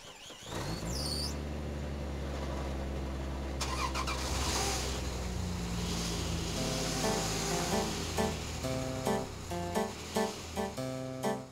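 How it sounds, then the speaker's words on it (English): A car engine cranks and catches, then revs and runs steadily, loud and near, with rhythmic engine pulses building toward the end and no voices. "Quick, let's use those cars to get away!"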